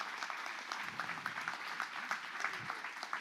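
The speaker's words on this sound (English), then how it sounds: "let's give Jay Rubin a round of applause" A church audience applauds a guest speaker during an adult Bible fellowship interview, a steady patter of many hands clapping at moderate distance for a few seconds.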